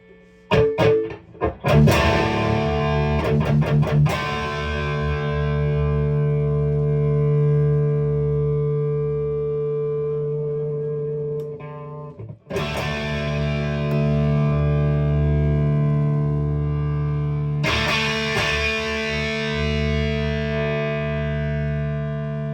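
Distorted electric guitar chords through a 1987 Marshall Silver Jubilee tube amp and 4x12 cabinet ring out loud and sustained, struck again twice with long decays and a little hum between, no voices.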